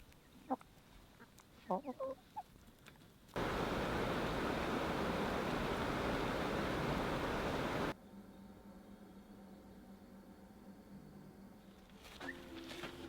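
Hens at a mountain chicken coop in the Alps give a few short, soft clucks early on. A long, loud burst of broadband rushing noise follows, then a low steady hum with another faint cluck near the end.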